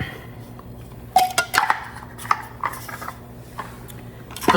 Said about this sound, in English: And you just want to get it chopped up